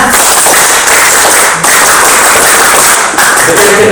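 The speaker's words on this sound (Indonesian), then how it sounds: "Tepuk pramuka." A seminar audience at a national mosque-management event performs the rhythmic scout clap, a loud, dense burst of many hands clapping together that pauses briefly and restarts, with faint voices underneath.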